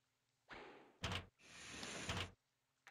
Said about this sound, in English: You hear a rustling at the door to your cell.